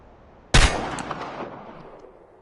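A single sharp pistol shot at a shooting range in Chernobylite cracks loudly once, then a metallic ringing tail and faint pings fade over the following two seconds, with no talking.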